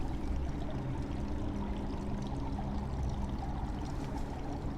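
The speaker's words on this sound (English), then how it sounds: "This is the River Lethe, my dear. The river of forgetfulness." Steady, continuous rush of river water flowing by, imagined as the River Lethe in an underworld setting, heard close with an even churning texture and no voices throughout.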